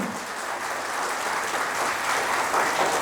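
A crowd at a police service retirement function applauds steadily for someone's mother and father, a dense, sustained clapping that holds for the whole stretch with no talk over it.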